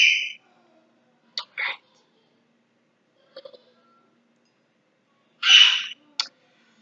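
A young daughter makes noise in the background, a few short, scattered high-pitched squeals and chirps with long quiet gaps between them.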